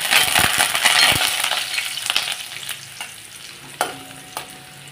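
Garlic, cumin and curry leaves sizzling in hot oil, a loud bright crackling sizzle at first that gradually settles, with spoon knocks and scraping against the pan throughout and no talk.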